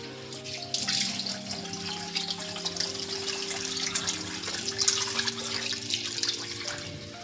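Soaked bhagar (barnyard millet) is rinsed under a running tap in a sink, water splashing steadily and closely throughout with a broad hiss, no talk over it.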